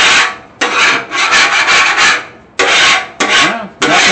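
A metal scraper rasping across a Blackstone griddle in loud, close strokes, several long scrapes separated by short pauses.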